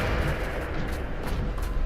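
A Descendo spell cast in the video game Hogwarts Legacy, heard as a dense, steady rumble of booming impacts and crackling bursts throughout, moderately loud with no clear talk over it.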